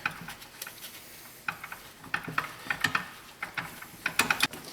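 Socket wrench with a 17mm socket on a swivel and long extension ratcheting on a bolt during a Honda S2000 clutch and pilot bearing job, quick bursts of faint metallic clicks with short pauses between.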